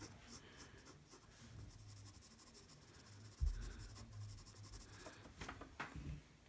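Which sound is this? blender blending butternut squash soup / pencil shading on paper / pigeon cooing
pencil shading on paper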